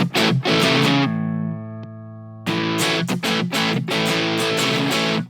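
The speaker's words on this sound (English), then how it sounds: "Here we got a gain boost." Electric guitar run through a gain boost on the Aurora DSP Rhino amp plugin, playing distorted, crunchy chords with a sustained ringing chord in the middle, loud and upfront with no talking.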